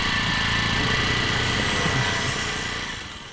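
A motorbike engine drones steadily at close range, loud and rough, then fades slightly toward the end; no voices.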